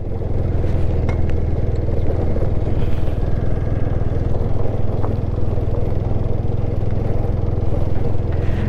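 A TVS Apache motorcycle rides a mountain road from Mangan to Lachen, its engine giving a steady, close, loud rumble with clattering road noise that holds without a break and has no talk over it.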